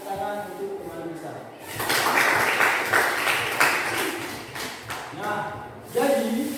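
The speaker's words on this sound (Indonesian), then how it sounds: "kita tepuk tangan untuk teman kita" Classroom audience claps for a fellow teacher during an academic supervision coaching session, a short burst of applause of several seconds framed by talk before and after.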